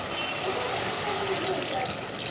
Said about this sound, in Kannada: ಸೊ ಇಲ್ಲಿ ಒಂದು ಸ್ವಲ್ಪ ನೀರು ಹಾಕ್ಯಾರ